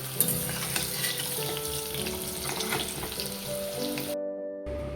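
Potatoes frying in oil in a wok, a steady close sizzle with stirring scrapes throughout, cutting to near silence just before the end.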